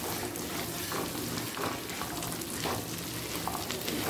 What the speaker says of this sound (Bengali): আলুগুলোকে ভাজতে ভাজতে সেদ্ধ করে নেব